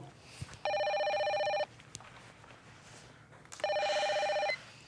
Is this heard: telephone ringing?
yes